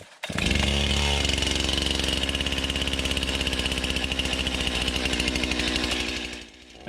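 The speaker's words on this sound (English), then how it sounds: "This is why I brought the chainsaw." A chainsaw starts and runs at a steady, loud buzzing idle close by for several seconds, then cuts off abruptly.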